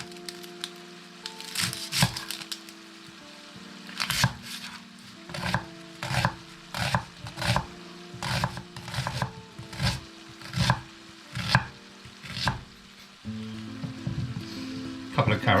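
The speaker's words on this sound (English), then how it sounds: "just chop up an onion." An onion chopped on a board beside ground beef sizzling in a pan, with a steady run of sharp, close knife strikes at an even rhythm over a constant frying hiss.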